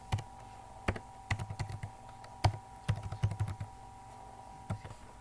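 A CNIC number being typed on a computer keyboard, a run of sharp close key clicks in uneven bursts with short pauses, fading out toward the end, no talk.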